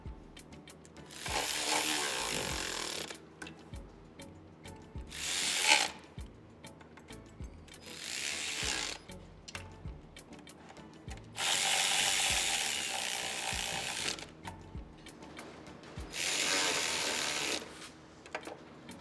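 A ratchet wrench snugs down intake manifold bolts on a 2004 Toyota Corolla, with several separate runs of rapid clicking ratcheting spread across the clip, each lasting one to three seconds, close and clear between quieter handling noises.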